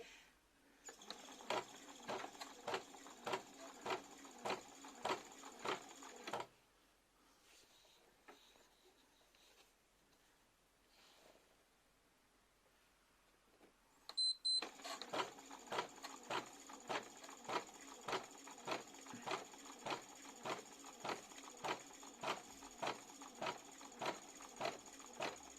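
Bernina B590 embroidery machine stitching with metallic thread, a fast, regular needle clatter heard close up, pausing into a quiet hum for several seconds before the rhythmic stitching resumes.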